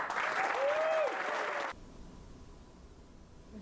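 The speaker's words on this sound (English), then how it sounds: "Let's give all of our promotees one more round of applause." An audience at a military promotion ceremony gives a warm round of applause that rings out for under two seconds and then stops abruptly, leaving quiet room tone.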